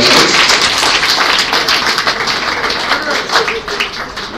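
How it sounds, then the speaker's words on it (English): Round of applause for the speakers at a wedding reception, a loud crowd of clapping hands that runs steadily throughout, dense and close, with a few voices mixed in. "one more round of applause for all of our speakers this evening"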